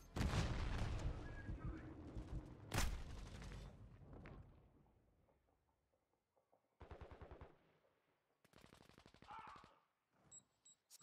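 Heavy gunfire and booming blasts in a military video game, loud at first and fading, followed by quieter rapid mechanical bursts and short electronic beeps, with faint voices.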